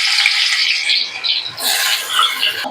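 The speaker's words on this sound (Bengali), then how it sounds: "তেলের মধ্যে এই আলুগুলোকে ভেজে নিচ্ছি" Small potato pieces fry in hot oil with a dense, hissing sizzle that rises and falls in waves, loud and close, with no talking.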